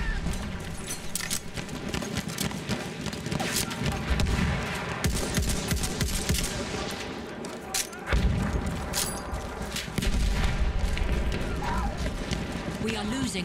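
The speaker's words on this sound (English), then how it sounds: "Look out! Machine gun!" Battlefield 1 battlefield combat with machine gun fire, scattered gunshots and booming explosions crackling at varied distances, loud and chaotic, with voices shouting over the din.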